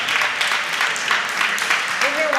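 Applause from a school audience for Basic 9 students at an inter-school quiz contest, steady dense clapping throughout, with a voice briefly audible near the end.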